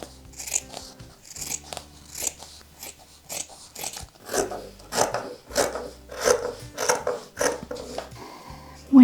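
Scissors snipping away excess fabric or thread on a small handmade makeup and brush case, a run of crisp, close cuts and rasping rubs in an irregular rhythm, with brief pauses between snips.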